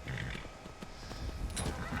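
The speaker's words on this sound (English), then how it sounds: "The horse has been successfully tamed." A horse neighing in Skyrim Anniversary Edition while it is being tamed: a loud, close whinny with snorting breaths over low game ambience, and no speech.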